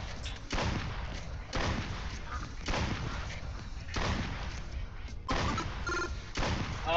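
Shotgun blasts fired at ducks during a duck hunt, five heavy booming shots spaced about a second apart, each loud and close with a long rumbling tail.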